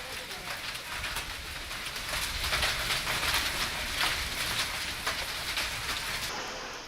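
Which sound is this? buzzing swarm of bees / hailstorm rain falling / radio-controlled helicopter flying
hailstorm rain falling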